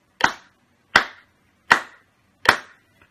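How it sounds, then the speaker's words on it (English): Hands clap a steady quarter-note rhythm to a metronome during a beginner music lesson: four sharp, evenly spaced claps about 0.75 seconds apart, close and clear, with no talking. "we clap our rhythms to that metronome"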